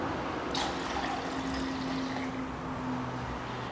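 A cup of water pours into a pot while turmeric chai is being made, a steady close trickle and splash over a constant background hiss.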